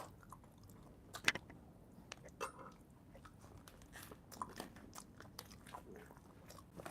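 Balut, a fertilized duck egg with a salty, peppery sauce, being bitten and chewed up close, with soft squishy mastication punctuated by several sharper crunchy bites, no talking.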